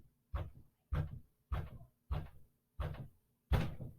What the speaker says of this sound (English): I'm gonna go check who's banging on my door